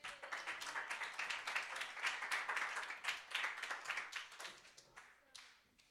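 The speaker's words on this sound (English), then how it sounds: "How about another round of applause for Ian?" Applause for a performer at a late-night open mic, sparse and uneven with individual claps clearly audible, fairly close, loud at first and thinning out toward the end.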